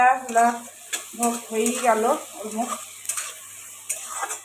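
Food sizzles steadily in a pan under a voice, with the occasional clink of utensils.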